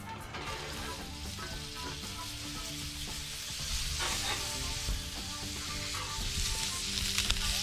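Crab meat sizzling on a hot Blackstone flat-top griddle, a steady close crackle and hiss with faint scraping, no voices.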